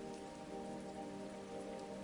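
Steady rain falls on surfaces, a dense even hiss with soft patter and no pauses, constant and moderately quiet throughout.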